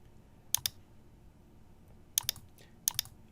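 A computer mouse clicks in quick pairs, three close double-clicks spaced apart, crisp and near against a quiet room hum, while working on a pillow project.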